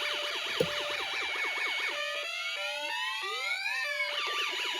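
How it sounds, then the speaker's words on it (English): A Snap Circuits alarm integrated circuit plays electronic siren-like sweeping tones together with a looping melody, loud and continuous throughout, with the pitch patterns shifting partway through. "we're going to turn it on, we're going to hear the music and the alarm go off at the same time"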